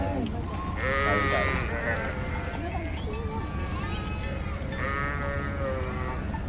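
Goats standing in the middle of a road bleat repeatedly, with several overlapping wavering calls and hoof clatter nearby, set against steady road noise.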